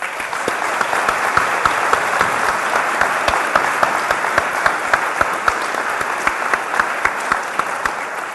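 Sustained, even applause from an audience at a university debate night fills the whole stretch, with dense clapping at a steady level and no one speaking over it.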